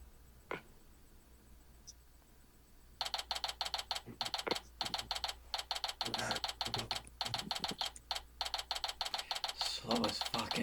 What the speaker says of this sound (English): Slowest fucking typewriter.